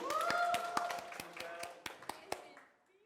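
A small audience clapping for a young singer in a talent show setting: a handful of distinct claps at an uneven rhythm over a fading sung or spoken tone, thinning out toward the end.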